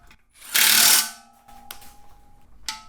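Tightening the last nut on a Holley 302-3 oil pan of a Chevelle LS turbo engine build, a single loud half-second burst of a power tool, followed by faint clicks and a brief second burst.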